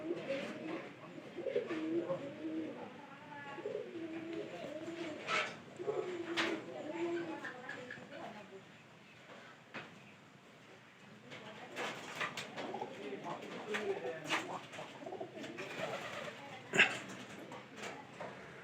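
Caged pigeons coo softly in repeated low, throaty phrases, fairly quiet and close, with scattered rustles and small knocks around them and some faint voice-like sounds in the background.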